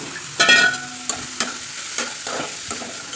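Flattened rice (poha) being fried in a home kitchen pan, with a soft sizzle under sharp scrapes and clinks of a spatula stirring at irregular intervals.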